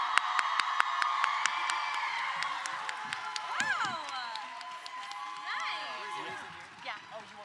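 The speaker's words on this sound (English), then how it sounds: "Now you can clap." A convention crowd at an anime event cheers and claps for a cartoon voice cast panel, with whoops, scattered sharp claps and excited voices rising over a steady wash of noise.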